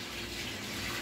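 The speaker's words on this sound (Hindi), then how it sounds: "ये जितने मेरे चावल थे उसके डबल मैंने पानी डाल दिए" Water pouring steadily into a cooking pot while preparing chicken biryani, a continuous broadband gush heard close and alone, with no talking.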